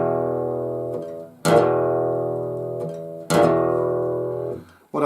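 An intro lick in E rings out on guitar as two sharp, strummed chords, each left to sustain and slowly decay, with a softer pluck between them and no voices.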